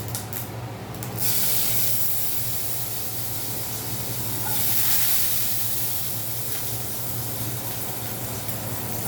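Garlic frying in hot oil with mustard seeds in a home kitchen pan, a steady close hiss and sizzle with faint crackles, swelling slightly and running alone without talk.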